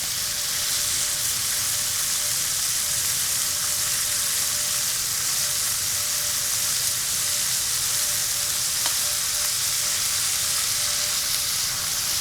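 Pork glazed with soy and cola sizzles steadily in a hot pan, a close, continuous hiss and crackle with no pauses and no voices.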